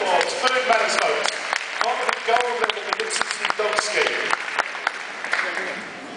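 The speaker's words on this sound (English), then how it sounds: "Big round of applause." Audience applause at the Crufts dog show, a dense wash of clapping from a large indoor crowd with a presenter's voice talking over it, holding steady before easing off slightly toward the end.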